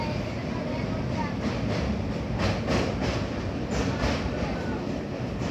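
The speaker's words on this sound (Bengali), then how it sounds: "কাশীতে ঠিক 2 মিনিট ট্রেন দাঁড়িয়ে আবার এগিয়ে চললো বেনারসের উদ্দেশ্যে।" Howrah to Varanasi express train running along the Ganges toward Varanasi, a continuous rumble of carriages heard from on board with periodic rhythmic wheel clacks over the rails.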